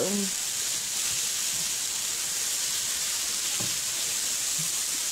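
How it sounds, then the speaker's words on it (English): Onions and mushrooms sauté in a pan with a steady, even sizzle and hiss throughout, with a few faint low knocks near the start and again later. "onions and mushrooms sauteed smells so good"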